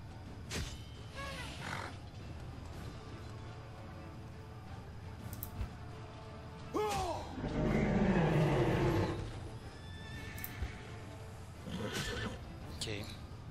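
Horses neighing in the fantasy role-playing video game Pathfinder: Wrath of the Righteous, several sharp whinnies among creaks and game noise, with a person talking over them.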